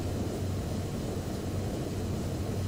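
Huge C-17 Globemaster military jet in Microsoft Flight Simulator, its engines throttling up as it begins to roll: a steady, dense, loud low roar that holds evenly throughout, with no voices over it.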